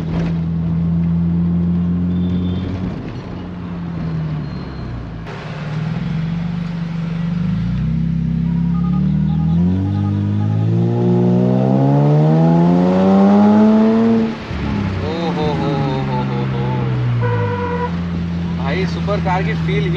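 Mercedes-Benz SLK 350 engine while driving, a loud close drone that climbs steadily in pitch through a rev and then drops on a shift and settles, with someone talking over it.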